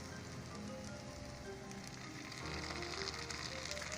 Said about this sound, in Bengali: এখন আমি সসটা দিয়ে দেব।